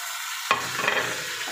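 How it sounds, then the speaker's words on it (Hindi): Masala with tomatoes and green chillies is stirred and fried in a pot for pulao, a short scrape of the spoon followed by a steady hiss of sizzling, with no talking. "अब इसको हम अच्छी तरह भून लेते हैं"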